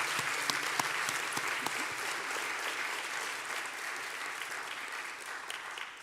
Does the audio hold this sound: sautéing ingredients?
no